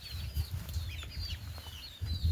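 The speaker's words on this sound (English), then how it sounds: "These are chicks, duck chicks, chicken chicks." Duck and chicken chicks peeping in a cluster, thin high chirps repeating over a low background rumble, close and moderately loud with no talking.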